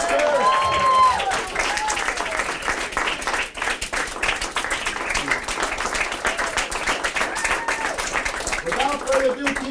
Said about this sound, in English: keep your hands clapping for Dom Testa